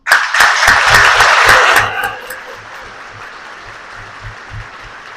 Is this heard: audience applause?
yes